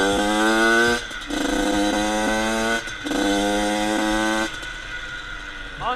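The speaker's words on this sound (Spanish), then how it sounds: "la moto ahora suena mucho mejor" A two-stroke motorcycle engine being ridden, with no front brake, revving in strong harmonic bursts with short pauses between throttle openings, loud and close, with wind noise.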